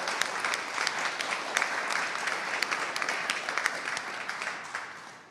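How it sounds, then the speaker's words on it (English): Applause at a board of trustees meeting, a moderate crowd clapping steadily for several seconds before it tapers off at the end. "can we give like a round of applause to those folks?"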